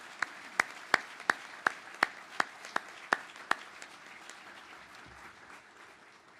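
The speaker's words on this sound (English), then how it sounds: "Round of applause." Rhythmic clapping at a US Army birthday ceremony, about ten sharp, evenly spaced claps that stand out clearly over faint background applause, then fade into quieter room noise.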